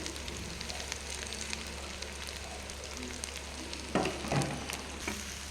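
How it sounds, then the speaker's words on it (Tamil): Gongura leaves sautéed in a pan with fried onions and chillies, a steady close sizzle throughout with a couple of louder clattering stirs near the end. "இப்போ நம்ம இந்த கழுவி வச்சு சுத்தம் பண்ணியிருக்கிற புளிச்சக்கீரையை போட்டு கடையணும்."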